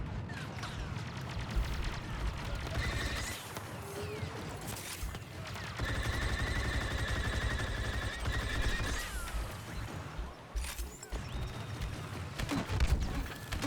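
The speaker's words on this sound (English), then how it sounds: "those seismic cannon grenades are crazy" Seismic cannon grenades going off in a Star Wars shooter video game, a dense run of booming blasts and gunfire layered over a constant loud battle din, with metallic mechanical tones threading through.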